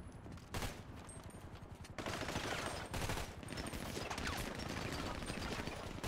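Rapid bursts of video game gunfire, with several weapons firing in overlapping volleys during a tense Fleeca bank heist shootout in a GTA roleplay server, loud and close throughout with brief pauses between sustained barrages.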